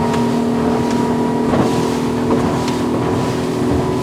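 Highfield ADV 7 crossover boat with a 200HP outboard running at full power on open sea, a loud steady engine drone with wind and hull slapping on waves throughout.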